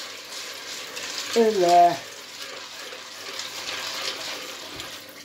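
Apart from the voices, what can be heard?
cold tap water swirled over pasta in sink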